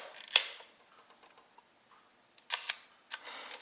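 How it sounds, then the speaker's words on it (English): An AKAREX 35mm film camera shutter fires in a few sharp, close mechanical clicks, one early and a quick pair later, each with a faint tick after it, in a quiet room. "it sounds like the shutter is working."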